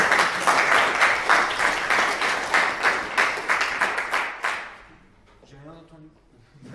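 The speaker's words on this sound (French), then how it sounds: "tout ça pour avoir une deuxième salle d'applaudissements" Audience applause fills a demo night room for about four and a half seconds as dense, steady clapping, then fades out. Voices follow and continue into the gap.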